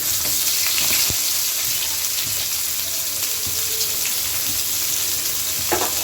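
Chopped onion dropped into hot oil in a pan while cooking a tengra fish curry, giving a steady, close sizzle with faint clinks and stirring, no voices.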